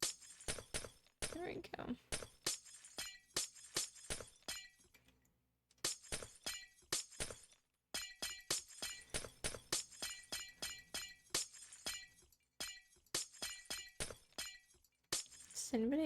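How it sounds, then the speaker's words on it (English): Glass shatters again and again in a video game during a spooky-themed building stream, a rapid run of crisp breaking and tinkling bursts with short pauses, while a voice briefly speaks. "Does anybody else like just the sound of the glass breaking?"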